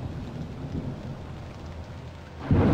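Thunderstorm in the horror video game Phantasmal, steady rain hissing throughout with low rumbling thunder that swells into a loud crack of lightning at the end.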